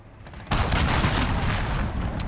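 A cruise missile strike explodes in Call of Duty: Modern Warfare, a sudden loud, close boom that erupts and rumbles heavily for nearly two seconds.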